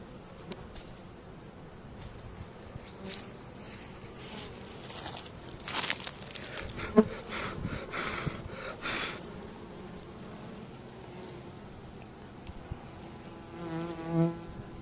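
Honeybees buzzing in an opened hive during an early spring brood check and feeding, a steady close drone with a few brief knocks and louder swells, no talking.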